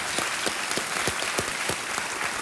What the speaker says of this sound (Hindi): तालियों के साथ आपका हम अभिनंदन करते हैं अश्विनी जी।